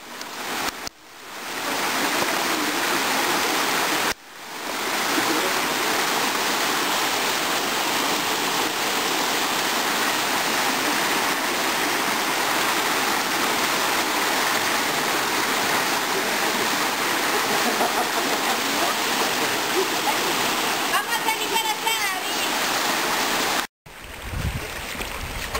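Rushing water at a waterfall by La Quebrada dam makes a loud, constant broadband roar heard up close, broken by brief dropouts near the start and near the end, with no speech over it.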